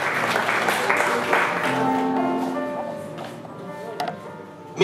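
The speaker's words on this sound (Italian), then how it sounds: "ancora un applauso per Pasquale" Applause from a crowd at a music and poetry awards event, with tonal music-like sound and voices mixed in, fading slightly toward the end before a sharp burst.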